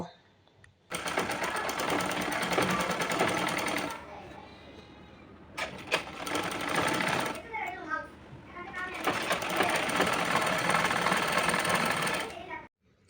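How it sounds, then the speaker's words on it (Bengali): Sewing machine stitching a Quran cover, running in two long loud continuous bursts of rapid mechanical stitching with a short pause between, while a person talks throughout. "দেন এখন আমি সেলাই করে নিব"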